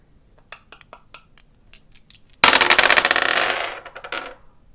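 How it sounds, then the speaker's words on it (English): Astrology dice rattle and tumble onto a surface during a tarot reading, a few light clicks at first, then a loud, dense clatter that rolls on and slowly fades, with no talking. "I am going to go ahead and roll my astrology dice"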